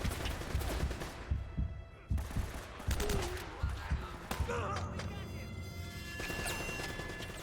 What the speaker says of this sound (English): He blind fired and killed me with like one shot of a blind fire behind that corner